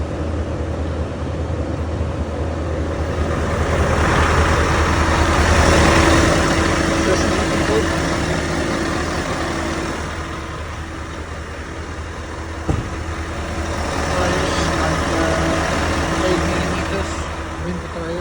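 A 2022 Scania S590 V8 6x4 truck idles nearby, a steady deep engine rumble that rises slightly and eases back, with a voice speaking over parts of it.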